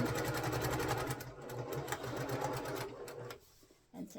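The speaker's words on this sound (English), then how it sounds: "I just have to take one, take it over, and sew." A sewing machine runs steadily, stitching pieces of cotton fabric down for a gnome project, its fast whirring rhythm continuous for about three seconds before easing off with a brief final burst.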